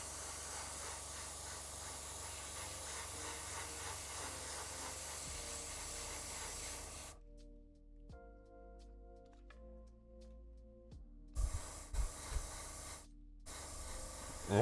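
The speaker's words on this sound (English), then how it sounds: "Man, the airbrush is just wizardry." An airbrush sprays paint onto a Warhammer 40k knight model in a steady, soft, close hiss for about seven seconds, then cuts off, followed by quiet background music and small handling noises.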